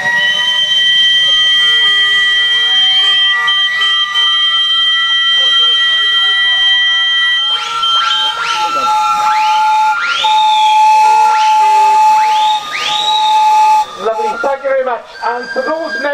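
Several steam whistles blowing together at a miniature steam rally at Pembrey Country Park, loud sustained overlapping tones and shrill pitch slides carrying on for many seconds, with a busy outdoor crowd in the background.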